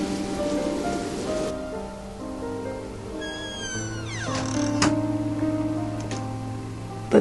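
Rain falls steadily through the whole stretch, a continuous wash of drops under tonal cries and whistling sounds that rise and fade over it.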